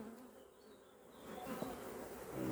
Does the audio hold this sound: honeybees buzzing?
yes